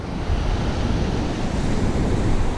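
Ocean surf at Pala Beach in Ban Chang, Rayong, Thailand, washing in on a calm day as a steady, broad wash of waves, fairly loud and continuous with no voices.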